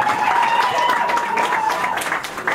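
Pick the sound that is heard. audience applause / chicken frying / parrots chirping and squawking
audience applause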